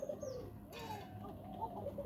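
Pigeons coo softly in low, rolling calls, repeating a few times against quiet background noise.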